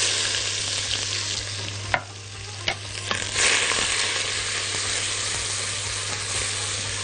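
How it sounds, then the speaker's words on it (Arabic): Onions and garlic frying in hot oil in a pan, a steady close sizzle with a few sharp clicks and knocks of stirring in the first seconds, no voices. "في الزيت ده هنزل عندي الثوم والبصل واديلهم تشويحه"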